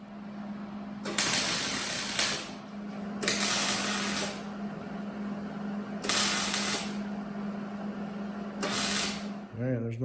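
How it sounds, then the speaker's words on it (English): Tack welding a chopped car roof with a MIG welder, four crackling buzzing bursts of one to two seconds each, close and loud over a steady low hum. "So I'm gonna get this tack welded in as lined up as I can get it, and then weld these miniature pie cuts."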